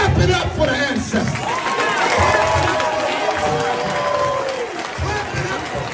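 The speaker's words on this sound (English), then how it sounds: "Brothers and sisters, clap it up for the ancestors." A crowd claps and cheers steadily for the ancestors, a dense, continuous wash of applause that holds for several seconds, with voices calling out over the noise.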